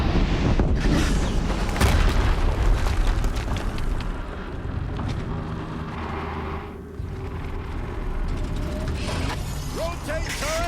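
An explosion in the video game Horizon Zero Dawn, a loud, sustained rumbling blast with mechanical clatter and a low roar that eases briefly before building again.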